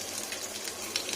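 Dried red chillies and onion sizzling in hot oil, a soft, faint, even hiss lasting only a moment with no voices over it.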